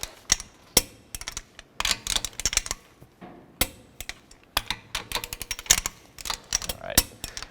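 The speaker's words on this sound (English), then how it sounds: "we've now got our torque wrench set to 76 foot-pounds, and we're going to go ahead and torque this" A torque wrench tightens the wheel lug nuts on a 2005–2016 Toyota RAV4, giving a run of crisp, close, irregular ratcheting clicks in quick bursts with short pauses between.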